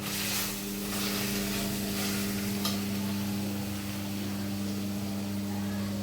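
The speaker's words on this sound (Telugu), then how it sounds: "ఇది కూడా పచ్చివాసన పోయేదాకా ఆయిల్లో ఫ్రై అవ్వాలి." Ginger paste fries in oil in a pan for chicken curry, a steady low sizzle and hiss under a constant hum, close and fairly even throughout.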